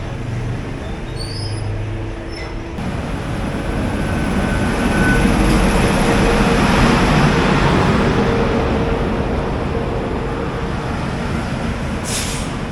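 A Malda-shed WAG9 electric locomotive hauls the Yoganagari Rishikesh–Kolkata special past, a broad rushing roar of wheels and motors that swells toward the middle and stays loud and steady, with faint whistles and squeals at the start.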